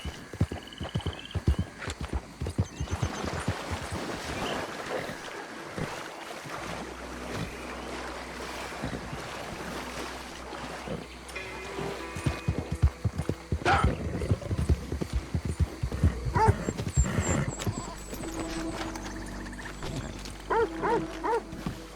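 Horse hooves clip-clop steadily as a rider travels in Red Dead Redemption 2, a continuous close rhythmic trot over outdoor ambience with a watery wash in the background.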